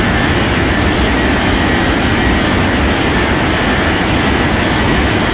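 A jet airliner roars on its takeoff run in an air traffic control game, a loud, steady, unbroken rumble filling the whole stretch with no voices over it.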